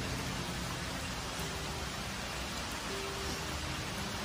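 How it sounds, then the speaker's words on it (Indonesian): Steady rain falls outdoors near a parked car, a dense, even hiss of drops on surfaces running throughout with no talk over it. "ini hujan"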